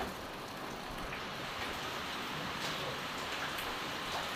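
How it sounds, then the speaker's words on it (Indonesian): Steady rain falls outdoors, a continuous even hiss of drops that holds at the same level throughout with no voices over it. "Bagaimana mau pulang ini hujan datang ini?"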